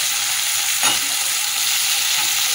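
Chopped onions frying in oil over spices like bay leaves and dried red chilli, a steady bright sizzle with a brief stirring scrape partway through, close and continuous with no talking.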